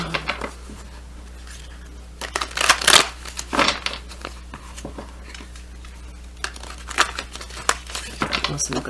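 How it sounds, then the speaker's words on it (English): A Crystal Visions Tarot card deck being shuffled, with crisp riffling and flicking bursts of cards, close and fairly loud, scattered through the stretch alongside a steady low hum. "Listen, a good shuffle."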